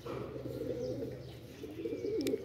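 A pigeon coos nearby in soft, repeated throaty rolls over a low background hum.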